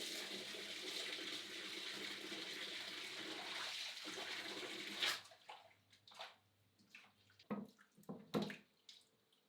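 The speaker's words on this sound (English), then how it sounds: "first wash a beetroot well" A beetroot is washed under running water, with a steady stream for about five seconds. The flow then stops and is followed by scattered knocks, splashes and drips.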